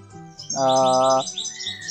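Flamboyan bird song used as masteran for a magpie-robin: a loud, rapid chirping trill with a bright harmonic tone, close and alone, over a background of faint, higher chattering calls.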